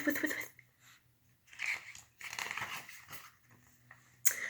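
A voice imitates a rotating lawn sprinkler with repeated short, crunchy hissing bursts in an uneven pulsing rhythm, fairly quiet and close.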